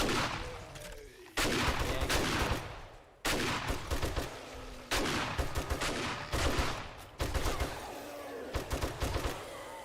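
Gunfire from the video game 7 Days to Die: loud, close bursts of shots in several sharp volleys separated by brief pauses, with no talking.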